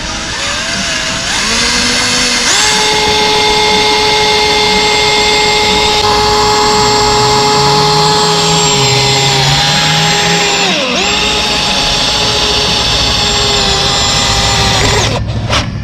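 Loud, continuous power-tool whine saws into a Suzuki Gixxer 600 motorcycle during a dirt bike bar install, pitch dipping and rising as the blade bites, close and dominant throughout.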